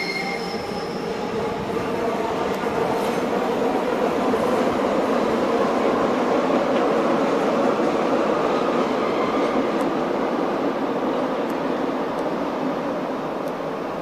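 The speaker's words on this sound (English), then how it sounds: "Oh, they're having a race, they're off together, but there's two different types." Two Hamburg S-Bahn trains, one older and one newer type, pull out of Hauptbahnhof side by side, a loud steady rumble of rolling wheels and rail noise with faint squeals, continuous throughout without voices.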